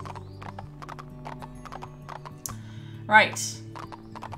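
Horse hooves clip-clop steadily in Barbie Horse Adventures: Wild Horse Adventures, a video game, with a brief whinny partway through and a person talking over the game sounds.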